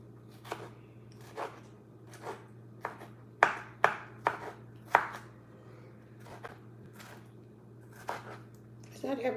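A knife working through cassava on a cutting board gives a run of sharp, close scraping and cutting strokes at an uneven pace, with a steady low hum underneath and no talk.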